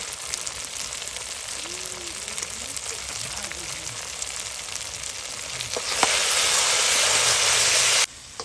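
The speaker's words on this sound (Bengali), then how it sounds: "এই মশলাটা ভাজা ভাজা হয়ে গেছে" Spice paste with turmeric and salt frying in a pan, a continuous hiss of sizzling oil with occasional stirring, rising to a louder, brighter sizzle near the end before cutting off abruptly.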